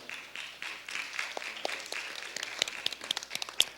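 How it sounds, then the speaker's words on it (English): At a school board trustee candidates' debate, the audience gives a round of applause, with steady, fairly faint clapping and a few sharper individual claps standing out near the end. "A big round of applause for everybody."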